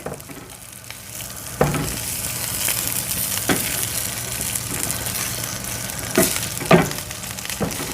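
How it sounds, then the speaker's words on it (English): Spinach wilting in a hot pan with bacon and garlic gives a steady close sizzle, broken by several sharp spatula scrapes and clatters. "I'm just going to wilt this spinach in with this bacon and garlic"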